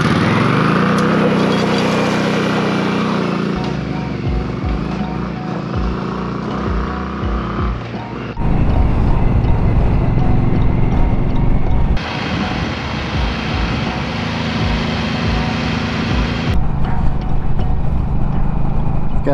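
A 2023 Indian Scout Rogue motorcycle engine runs loud and steady while riding, its rumble shifting as the throttle opens at around eight seconds and again near twelve, with constant wind and road noise and no talk.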